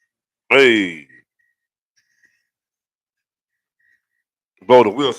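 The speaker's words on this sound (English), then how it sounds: "blow the whistle" A single sharp whistle blast sounds near and loud, followed by a long silence and then a second brief whistled burst at the end.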